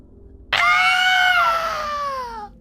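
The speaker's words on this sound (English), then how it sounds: "you'd hear a scream coming from like south of where you guys are" A single high, sustained scream bursts in abruptly and holds for about two seconds before trailing off, loud and piercing, used as a cry from down the road at the eastern edge of a city in a tabletop role-playing game.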